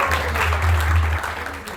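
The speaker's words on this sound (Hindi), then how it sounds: "उनके लिए जोरदार तालियां।" A crowd at a devotional youth festival gives a short burst of clapping over a low, steady hum, fading slightly toward the end of the brief stretch.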